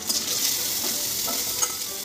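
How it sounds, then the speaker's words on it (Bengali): Two hilsa fish heads frying in a pan of oil give off a continuous hissing sizzle, close and fairly even, with a couple of faint ticks of a spatula and no voices. "মুড়ো দুটোকে একটু ভালো করে ভেজে নেব।"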